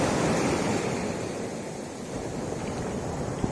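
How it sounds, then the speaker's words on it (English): Ocean waves at high tide on a sunny beach in Goa, a steady loud wash of surf with wind noise buffeting the microphone throughout, no voices. "Ooh, look at the sound of the ocean."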